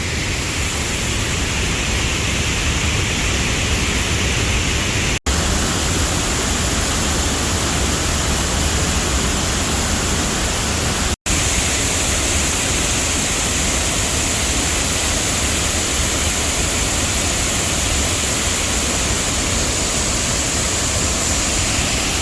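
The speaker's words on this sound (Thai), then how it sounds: "นี้จะเป็นน้ำตกจากลำห้วยตรวจนะครับ เป็นน้ำตกสองเส้นเลย ไหลแยกกัน" A stream-fed waterfall, split into two separate falls, roars as a loud, steady, unbroken rush of water throughout.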